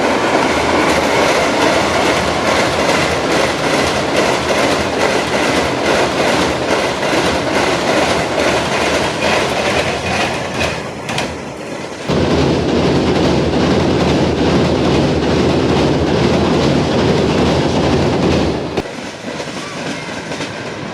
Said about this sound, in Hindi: 413 आप अवाम एक्सप्रेस पास होने लगी है अपर चिनाब कैनाल